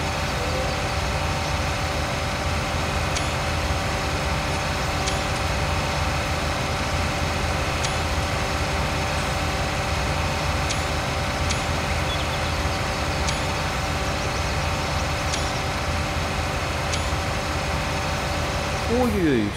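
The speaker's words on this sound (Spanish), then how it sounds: "Son unas monstruosidades de tractor." Tractor engines idle in the Farming Simulator 19 game on the Ravenport map during ploughing, a steady low diesel rumble with faint periodic high clicks throughout.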